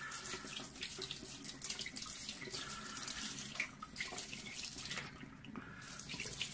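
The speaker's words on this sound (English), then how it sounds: "I will turn the mirror a little bit just to make sure that all the corners of it is receiving the water" Tap water runs steadily over the 12-inch mirror of a SkyWatcher 300P Flextube Dobsonian telescope as it is rinsed, a continuous close splashing hiss that shifts slightly as the mirror is turned.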